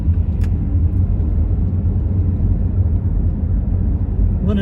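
A car driving through the small downtown of Waterford, Pennsylvania, a steady, loud low engine and road rumble heard from inside, unbroken for the whole stretch with no talking.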